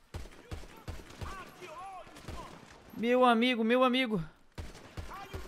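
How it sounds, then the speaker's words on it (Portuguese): Rapid gunfire from a guard shooting at the player in GTA 5 Zombies, a string of sharp video game shots at a steady rhythm, with someone talking over and between them. "Caraca, o guarda tá atirando em mim"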